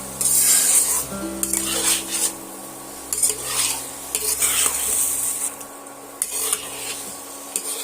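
Soya chunks stir-fry with spices in a pan, close sizzling under frequent scraping and clinks of a spatula against the metal, stopping and starting in bursts.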